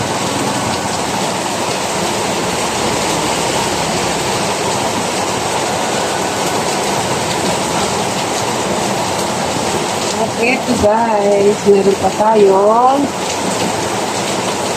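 Steady rain pours down outdoors near a garden, a dense constant hiss of drops on surfaces throughout, with a voice speaking briefly over it near the end.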